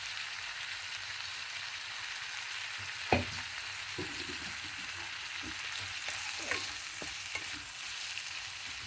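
Onions or dal frying in a pan while cooking Andhra menthaaku pappu, a quiet continuous sizzle broken by several sharp scrapes and knocks of a spoon stirring against the metal.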